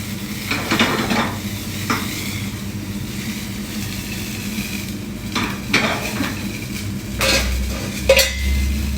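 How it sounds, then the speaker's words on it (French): Red wine flambéed in a pan for œufs en meurette sizzles steadily under a low burner rumble, with a few sharp bursts and scraping stirs of a utensil against the pan. "on va venir flamber le vin rouge pour enlever toute l'acidité côté alcool"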